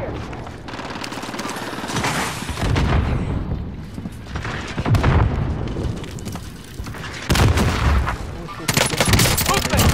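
Call of Duty Warzone Rebirth Island combat: bursts of automatic gunfire and booming impacts come in dense waves over about ten seconds, loud and close, with voices calling out over the shooting.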